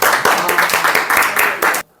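Brief burst of clapping from an audience at a pipe welding academy class event, dense rhythmic claps lasting under two seconds and then cutting off to silence.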